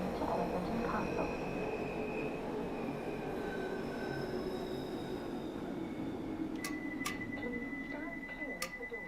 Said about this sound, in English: This is a Bakerloo line train to Elephant and Castle.